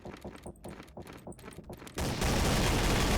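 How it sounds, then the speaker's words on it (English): Rapid automatic gunfire from a Warcraft 3 custom game, Undead Assault 2, crackling in quick bursts that build into a dense, loud, continuous barrage near the end. "When you're firing these guns, like at rapid fire, and these sound effects are never meant to be"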